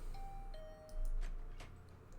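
A soft electronic doorbell chime from the video game The Hundred Line, a few clear tonal notes ringing out in sequence over a low background hum, gentle and close, with no talking.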